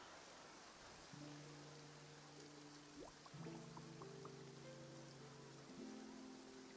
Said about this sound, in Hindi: 雨が降ってきたみたい。